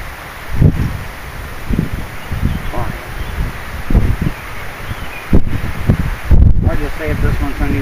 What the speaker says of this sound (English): Sorry for all the wind.